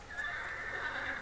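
A horse neighs in the Two Worlds video game, a steady whinny held for just over a second at moderate loudness, with no talking over it.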